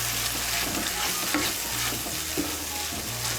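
A ground cashew paste is stirred into capsicum and paneer frying in a pan, with a constant sizzle and scraping spoon strokes repeating in a steady rhythm, close and clear.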